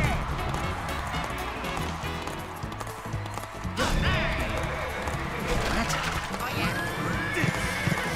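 Horse neighing and galloping hooves in the Mario & Sonic at the Rio 2016 Olympic Games video game, with whinnies and clip-clop sounds set among busy game music and effects, while a player talks over the action.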